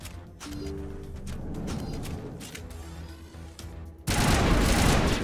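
Pistol gunfire in Mass Effect: sustained rapid booming shots through the first four seconds, then a sudden louder burst of dense blasting near the end, no talk heard.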